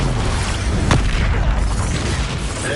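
A loud, deep boom of the Expulso spell explosion in Hogwarts Legacy, one sharp burst followed by a rumbling tail that fills the whole clip.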